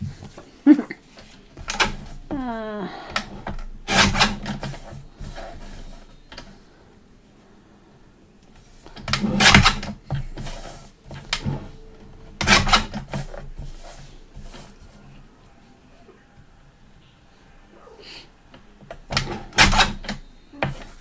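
Cardstock for fall cards being cut with a craft cutter, heard as separate bursts of scraping and clicking with quiet stretches between them, close and moderately loud.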